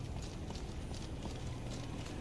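Horse hooves clip-clopping in the Skyrim video game, a steady rhythmic trot of repeated hoof strikes under a constant background rumble, with no speech.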